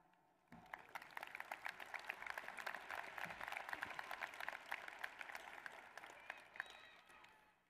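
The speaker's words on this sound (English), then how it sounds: "Let us also give another round of applause" A large audience at a Hollins High School graduation ceremony breaks into applause after the national anthem, dense clapping that swells quickly, holds steady for several seconds, then thins out.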